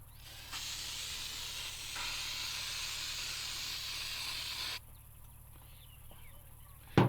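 Spray paint hisses steadily from a can onto a ball in a first coat, a continuous close hiss lasting several seconds before cutting off, leaving quiet outdoor background.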